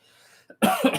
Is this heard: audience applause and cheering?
no